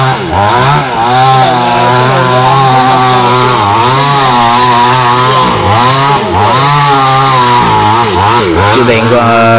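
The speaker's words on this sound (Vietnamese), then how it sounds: "tiếp tục cưa mấy cái góc lòi ra của cây sào." A chainsaw cuts protruding corners off a large Sao tree stump, its engine loud and close, revving and bogging down continuously as the chain bites into the wood.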